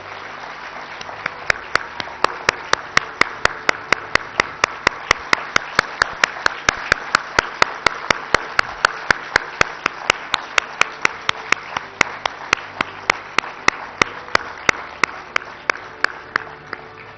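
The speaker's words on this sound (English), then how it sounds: "Let the applause keep coming." Steady rhythmic clapping from a crowd at a hockey trophy unveiling ceremony, in even, sharp beats that continue at a regular pace over a background of general applause.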